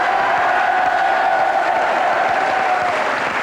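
A French TV studio audience applauds a singer's album, a loud, dense wash of clapping and cheering that stays steady throughout, with a faint tonal hum running underneath.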